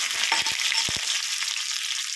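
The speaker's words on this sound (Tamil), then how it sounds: "தாளிப்புக்கு வந்து கொஞ்சமாக கடுகு ஆட் பண்ணுறேன்" Mustard seeds sizzling and popping in hot sesame oil for a tempering, a steady bright hiss with a few sharp pops early on, close and alone.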